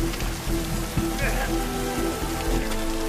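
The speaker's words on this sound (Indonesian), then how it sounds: "Pada saat itu hujan masih belum berhenti dan air mulai membanjiri lubang singkol" Rain falling steadily in a disaster scene from the film Sinkhole, a dense hiss of drops with low rumbling and a faint tonal hum underneath.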